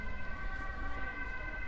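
An emergency vehicle siren in the Netherlands wails steadily at a distance, a sustained tonal whine over outdoor background rumble.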